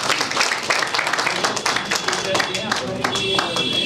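An audience applauds the chief guest at a Hindi literary award ceremony, steady full clapping from many hands sustained for several seconds, with a faint tone and some voices underneath.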